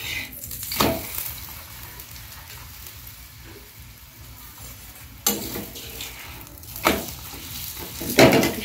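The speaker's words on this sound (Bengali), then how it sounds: "কি সুন্দর ভাজা হচ্ছে, দেখে নাও" A cabbage paratha fries in oil on a griddle with a soft continuous sizzle, broken by a few sharp utensil clatters and scrapes, close and moderately loud.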